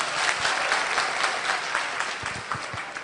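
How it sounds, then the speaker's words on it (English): Crowd of delegates at a political gathering in Sissala claps for their chairman, a lively, continuous round of applause with some louder individual claps standing out near the end. "Clap for him, clap for him."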